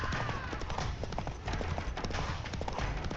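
The horse Roach galloping in The Witcher 3: Wild Hunt, a fast, steady drumming of hooves close by, busy and continuous with faint game sounds underneath.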